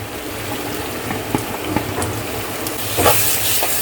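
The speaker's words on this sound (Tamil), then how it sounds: "இப்போது நம்ம நெக்ஸ்ட்டாக நம்ம எடுத்து வச்சுருந்த தக்காளியை ஆட் பண்ணிக்கலாம்" Chopped tomatoes hit a hot oiled pan for Tamil fish curry, bursting into a broad, steady sizzle with a louder surge of hissing near the end and a few clinks, close and without talk.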